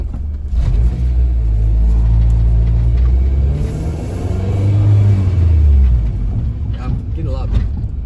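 A Honda Civic with a swapped K20A Euro Type R engine drives along, its steady low engine rumble and road drone continuous throughout, swelling slightly as it accelerates mid-run.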